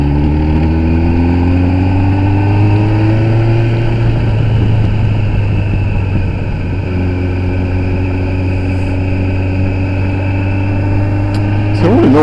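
A Kawasaki ZX10R sport motorcycle engine runs loud and close, its pitch rising through revs in the first few seconds, dipping, then climbing again to a sustained high-revving drone, with no voices.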